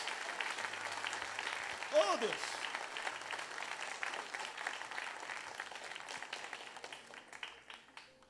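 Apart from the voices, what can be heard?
congregation applauding in church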